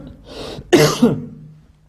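A single close throat-clearing cough, a rough hacking burst that quickly fades.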